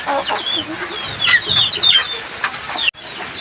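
Several native country chickens cluck and squawk close by on a rooftop terrace in short overlapping calls, with a brief burst of wing flapping near the end.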